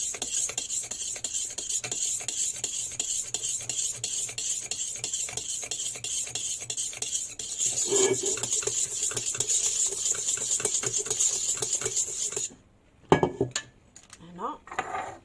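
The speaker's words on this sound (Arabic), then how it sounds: "هنا نحط الزيت، قلنا 40 غرام، نحطو اون فيلي ونقعد نخلطها" Oil being whisked into batter in a bowl for a rolled sponge cake, a steady rapid scraping and clinking of utensil against bowl that runs continuously before stopping abruptly near the end, followed by a couple of knocks.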